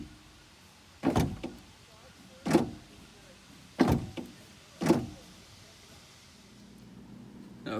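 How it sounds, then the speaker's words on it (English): Actuators in a BMW E46 door and window cycling under test, four short motorized whirring bursts spaced roughly a second apart, close and distinct against a quiet background. "you should hear the doors or the window actuate like that"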